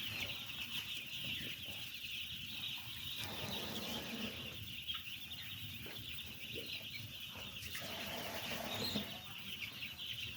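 Chickens in a poultry shed holding about a thousand birds, their clucking steady and close amid a constant high-pitched din, with no voices present.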